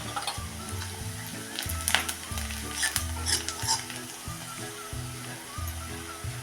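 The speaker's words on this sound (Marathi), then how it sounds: "त्यात आता टाकूया हा छोटा अर्धा चमचा हिंग अजून एक मिनिटवर परतूया" Chopped onion softens in hot oil with a pinch of asafoetida, a steady close sizzle with light stirring scrapes, heard under a person talking.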